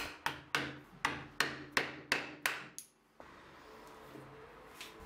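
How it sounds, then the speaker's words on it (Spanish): Mallet blows land on a wood chisel set just shy of a marked line while a wooden square is handmade, seven sharp, evenly spaced knocks close by, then a pause and quiet shuffling workshop noise. "Coloco el formón a 2 o 3 milímetros de la línea y realizo un par de golpes."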